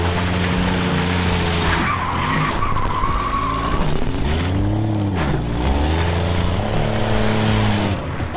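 An AMC Pacer drives on the road and sways back and forth, its engine revving up and down through gear changes, with tires squealing and a rising and falling roar close to the microphone.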